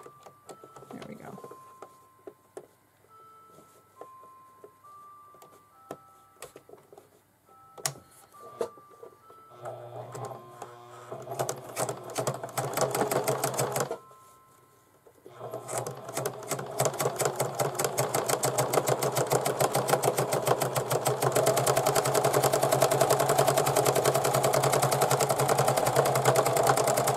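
Sewing machine stitching a zipper to the right side of fabric for a pencil bag, opening with some handling clicks and short bursts, then running in a steady, loud, fast rhythmic whir for a long stretch.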